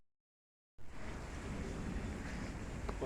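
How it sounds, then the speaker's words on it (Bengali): Rain falling outside on an evening, heard as a steady broad wash of hiss and patter that starts abruptly after a moment of silence and keeps going evenly to the end. "কারণ বৃষ্টি হচ্ছে বাইরে"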